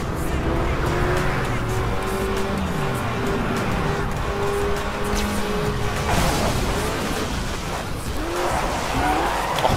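A car in the Alarm für Cobra 11 Undercover video game revs and accelerates with rising and falling engine tones, along with tire squeals and skids, loud and continuous over game effects.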